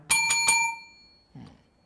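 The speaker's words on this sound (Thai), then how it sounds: "หยุดกระดิ่งหน่อย สั่นแรงมากนะครับ" A desk bell is struck three times in quick succession, bright ringing tones that sustain and fade, followed by a softer dull knock a moment later, with no talking.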